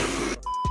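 A loud burst of noise stops, then a short, high electronic beep sounds once, cut off by another sound.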